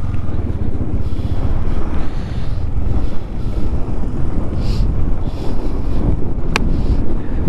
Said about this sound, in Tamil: மக்களே செம்ம காற்று அடிச்சிட்ருக்கு.